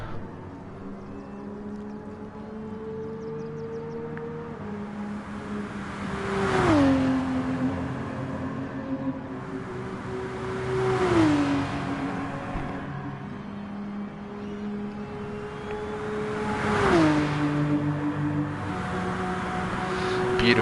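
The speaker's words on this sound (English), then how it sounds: "beautiful sound of Porsche there" Porsche 911 GT3R race car in a sim racing game on a wet Spa circuit, engine droning steadily and rising through the revs, with repeated sharp pitch drops at each upshift.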